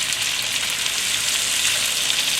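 A pork chop sears in a pan with a loud, dense, continuous sizzle and crackle, steady throughout with no talking.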